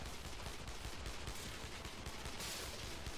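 An enemy keeps firing in the video game Red Snow, producing a dense, continuous crackle of rapid gunfire that holds steady and fairly loud throughout.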